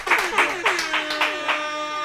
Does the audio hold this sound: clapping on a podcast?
yes